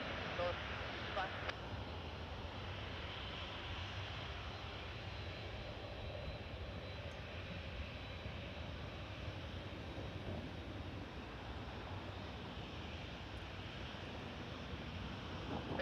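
A departing airliner on takeoff at Toronto Pearson airport at night, a steady distant jet roar with wind noise filling the whole stretch, no sharp events.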